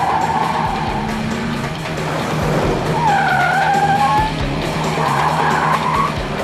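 A heavy Mexican Federal Police highway car is driven hard, its engine roaring as the tires squeal and skid in repeated bursts, loud and close, with no talk.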